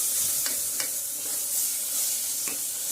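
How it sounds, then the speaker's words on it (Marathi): Onion and coconut paste frying in a pan, stirred with a few distinct scraping strokes over a steady sizzle, close and clear with no talking. "आपण आहे ना दोन चमचे कांदा आणि खोबऱ्याचं वाटण टाकून घेऊया हे चांगलं मिक्स करून घ्यायचं"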